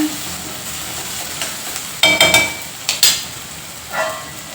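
Salted mung beans (hesaru kalu) stirred in a kadai, a steady sizzle with several sharp scraping clinks of a spatula against the pan, near and alone.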